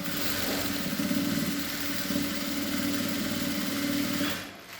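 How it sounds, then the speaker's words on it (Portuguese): A sewing machine runs a safety seam around the edge of a fabric car trash bag, a steady close mechanical whirr at even speed that slows and fades in the final moment. "Posso passar uma costura de segurança também em toda a volta."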